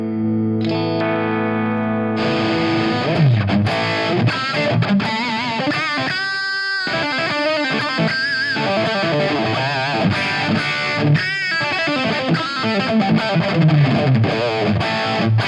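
Electric guitar overdrive played through a Fractal amp modeller: sustained distorted chords and melodic lead lines with chorus-like shimmer, loud and continuous, played alone without talk.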